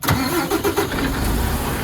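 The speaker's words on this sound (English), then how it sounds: "will start the truck" A truck engine cranks and catches, then runs loud and steady at close range during a daily pre-drive check, with no talking over it.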